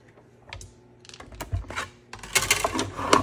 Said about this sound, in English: Let's bring over our cut and emboss machine.